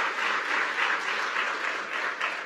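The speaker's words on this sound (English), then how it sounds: "Give yourselves a round of applause." Conference crowd in Washington, D.C. applauds for themselves: thick, continuous clapping from many hands, loud and even, rising and falling slightly with no speech over it.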